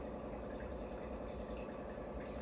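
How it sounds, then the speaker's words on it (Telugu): A household water filter fills with water, giving a steady low rushing, gurgling flow that stays even and continuous at moderate level throughout, with no talking over it. "ఫిల్టర్ వాటర్ తీసుకుంటుంది"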